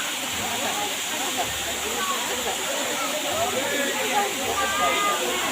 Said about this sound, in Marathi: किती सुंदर पाणी पडतं